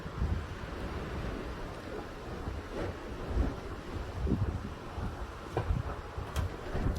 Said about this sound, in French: Wesh, les rafales qui arrivent!